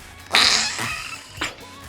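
Slime squeezed by hand gives off a squelchy, fart-like burst followed by a second shorter squish, close and fairly loud with no talking.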